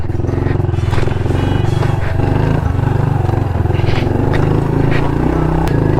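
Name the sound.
110cc pit bike riding on single track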